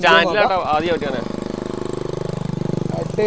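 A Honda Activa scooter engine, modified into a chopper and carrying two riders, revs and then settles into a steady, pulsing putter, with talk over the first second.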